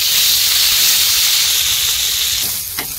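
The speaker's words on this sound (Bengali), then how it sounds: "তেল গরম হয়ে গেছে, এবার চাউমিন দিয়ে দিচ্ছি।" Chow mein noodles fry in hot oil in a pan, giving a loud, steady sizzling hiss that eases slightly near the end, with a brief scrape or clatter.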